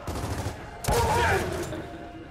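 Gunfire in the Gears of War 4 video game, a sudden loud burst that sets off a dense fusillade of shots, with noisy game action carrying on behind.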